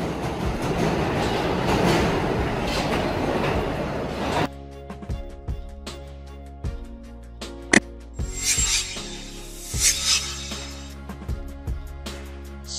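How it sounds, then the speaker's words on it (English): A subway train roars loudly at first, then cuts to quieter rhythmic clicks and clanks of wheels over track joints with occasional sharp metallic knocks. "Subway trains operate within underground tunnels in densely populated urban areas."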